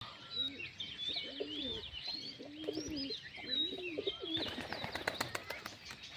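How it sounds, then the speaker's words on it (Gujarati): Pigeons perched on a new shed give repeated soft, throaty coos in a steady rhythm, with chirps from other birds around them and a burst of wing flapping near the end. "આ કબૂતર છે નવું"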